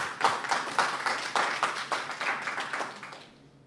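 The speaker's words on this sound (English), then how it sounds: "Let's give her a round of applause" A small audience applauds at an online literary talk, with steady, fairly dense clapping at moderate volume that thins out and fades near the end.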